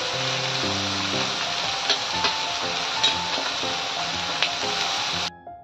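Onion, garlic, tomato, cabbage and carrot cooking in a pan for homemade momo filling, giving a steady loud sizzle throughout with faint tonal music underneath, cutting off near the end.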